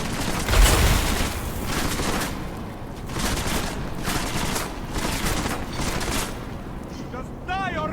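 Sustained gunfire in the shooter game Deus Ex: Mankind Divided, loud repeated bursts of automatic fire in several waves across the whole stretch, with a heavy thump near the start and shouted voices in between.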